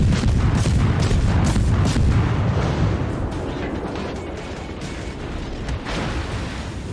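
Deck guns of a German Tier II cruiser, the Dresden, fire in World of Warships, producing dense, loud rumbling booms packed together in a continuous barrage that eases off slightly toward the end.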